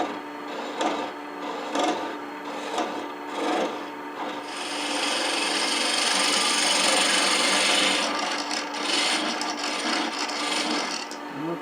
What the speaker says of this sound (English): Use the edge of this spindle gouge almost like a skew.